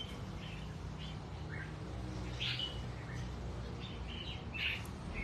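Pet birds chirp in short, bright, scattered calls over a low, steady background rumble, the tweets faint and intermittent, several spaced out across the stretch.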